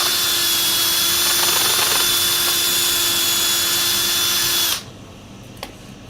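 Tulipwood turning on a lathe is sanded with 120-grit paper, a loud steady motor whine with a rough abrasive hiss that runs for several seconds, then cuts off abruptly to near quiet with a faint knock.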